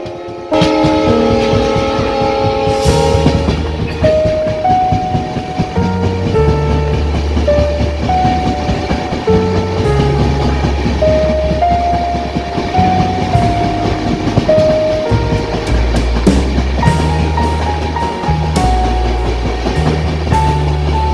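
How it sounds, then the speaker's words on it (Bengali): A train rumbles along the tracks with rhythmic clatter, while a loud horn sounds repeatedly in long tones over the running noise. "ট্রেন এগিয়ে চলেছে উত্তর দিকে"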